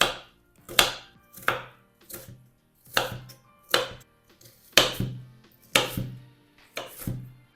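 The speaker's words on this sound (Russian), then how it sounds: "Одну луковицу нужно очистить, вымыть и мелко порезать." A knife finely chopping an onion on a board, eight or nine crisp evenly spaced strokes close by, each with a short tail, with quiet gaps between and no talk.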